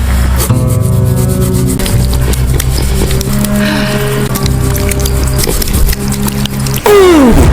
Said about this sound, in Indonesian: ia pun berniat menghajarnya menggunakan kikir besi